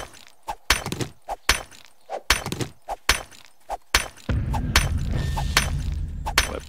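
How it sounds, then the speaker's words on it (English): Stones mined in 7 Days to Die: a series of sharp, cracking pickaxe hits on rock in a steady rhythm, with a low rumbling bed joining partway through. "Collecting stones."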